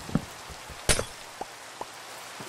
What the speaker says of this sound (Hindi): या ये बारिश ने एकदम खराब कर दिया मूड।